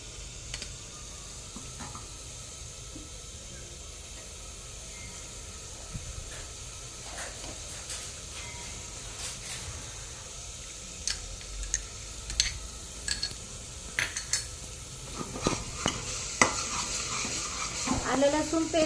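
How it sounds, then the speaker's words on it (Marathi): Onion, garlic and ginger paste sizzles in hot oil inside a pressure cooker while being stirred, with scattered scraping clicks from the utensil that grow more frequent and louder toward the end. "आता आपण थोडी मगाशी दाखवल्याप्रमाणे ही कांदा लसूण आलं लसूण पेस्ट घालणार आहोत"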